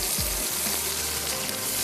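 Spice-coated mutton fries in a pot, a close, steady sizzle with a brief stirring scrape near the start and no voices.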